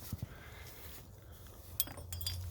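A metal hose clamp drops into the engine bay of a 2007 Toyota Corolla during a coolant leak repair, giving a couple of faint, brief metallic clinks over a quiet background.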